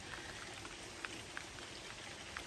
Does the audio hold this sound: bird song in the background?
no